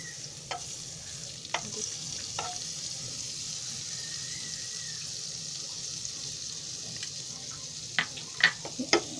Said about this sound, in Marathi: हे भांडं तापलं आहे, त्याच्यामध्ये मी आता थोडं बटर टाकते.